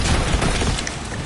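A loud, broad blast from the Bombarda explosion spell in the Harry Potter Legacy video game, one dense boom that fills the moment and then tails off slightly, with no talking.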